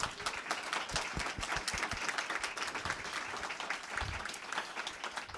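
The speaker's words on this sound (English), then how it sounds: "join me in a round of applause for our panelists" A crowd claps continuously for a panel, a full and steady round of applause with individual claps audible near the front, no voices over it.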